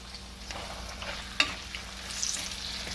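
Sliced onions with salt frying in a pan, a soft, low crackling sizzle broken by a single sharp scrape of the stirring spoon.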